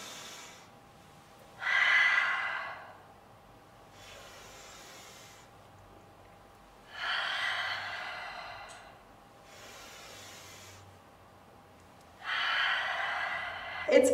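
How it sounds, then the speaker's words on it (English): Exaggerated, loud breaths during a calming exercise for children, with slow inhale and exhale cycles repeating about every five seconds, close up and otherwise quiet. "It's fun to make your breath sound really loud"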